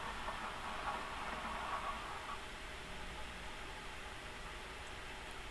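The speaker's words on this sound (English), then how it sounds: "It seemed the train had reached its final stop." A train in the Higurashi video game rolling to its final stop: a steady, broad rumble of wheels and carriage noise with a faint hiss, continuous and even throughout, no voices.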